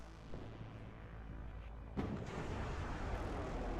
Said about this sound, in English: Rocket artillery. Not something you see every day.